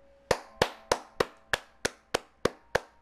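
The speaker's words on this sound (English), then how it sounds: "That deserves a hand clap." Nine single hand claps at a steady, unhurried rhythm, each sharp and close with a short decay, in otherwise quiet surroundings.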